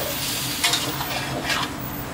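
Pork fat sizzles steadily in a hot wok while a spatula scrapes and stirs it, with two louder scraping strokes.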